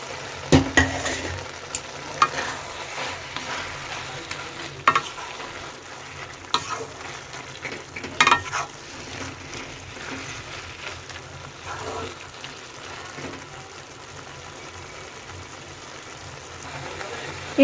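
Fried potatoes are stirred into banana flower in a pan, giving a steady sizzle with repeated scraping and knocking strokes throughout, with occasional quiet talking.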